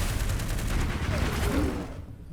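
Missiles launching in Into the Breach, a dense roaring burst of explosive noise that swells, holds for about two seconds, then tapers off.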